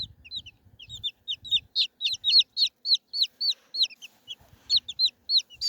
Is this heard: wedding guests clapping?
no